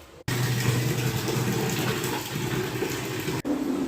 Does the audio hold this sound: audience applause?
no